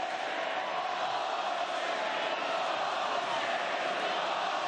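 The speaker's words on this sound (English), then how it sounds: "here goes the Melbourne crowd letting you know about it" A Melbourne crowd at a gridiron game roars in a dense, continuous wash of noise over a disputed score, loud and sustained with no breaks.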